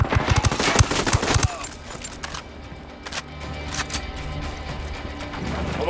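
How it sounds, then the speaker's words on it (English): Bursts of gunfire in the Ghost Recon Wildlands video game, a dense rattling volley up front, then scattered lighter shots over a steady game background ambience. "I'm opening fire on these shitheads."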